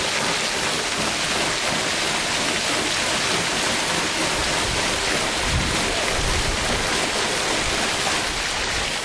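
An amphibious craft's paddlewheel runs fully submerged, churning water in a loud, steady broadband rush that holds unbroken and close for the whole stretch, with no voices over it.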